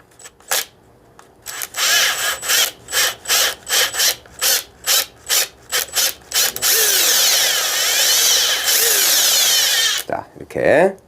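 A power drill boring a hole in Korean hornbeam wood for drill grafting: about a dozen short, loud whirring bursts close up, then one long continuous grinding run through the wood, with brief speech and handling near the end.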